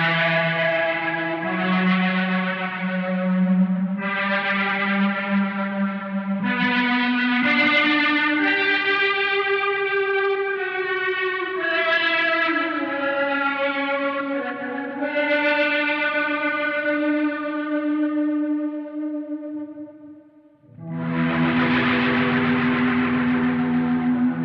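Electric guitar through a POG set for volume swells, an Echoplex tape delay and RV5 reverb, with sustained notes swelling in and smearing into a washy, echoing wash, a brief dip near the end before a new chord swells.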